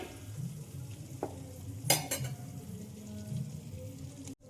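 Quiet stirring of eggplant in a pan, a few sharp scrapes and clinks of a utensil over a low simmering sizzle, close by.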